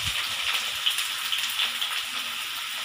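Onions frying in a pan with spices for restaurant-style shahi paneer, a steady bright sizzle with faint stirring, close and continuous.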